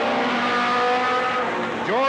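Stock race cars roar past on the short oval at Riverside Speedway in Cottage Grove under green in 1991. Engine tones are loud and sustained, then one car sweeps by with a sharp rising pitch near the end, with voices audible underneath.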